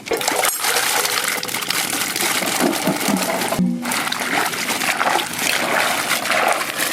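Cut vegetables being washed in water for a village chicken curry, a loud continuous splashing and sloshing with a brief clink partway through, close and unbroken.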